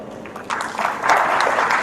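Applause rises from a crowd at an engineering college idea lab inauguration, starting soft and swelling into steady clapping.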